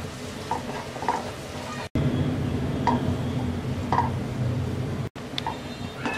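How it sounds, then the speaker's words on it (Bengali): Chopped garlic sizzles steadily in hot mustard oil, a constant close frying hiss broken by light stirring clicks and two brief cuts to silence. "রসুনটাকে হালকা ব্রাউন কালার করে ভেজে নেব।"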